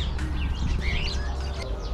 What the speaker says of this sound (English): Oh, they're pigeons.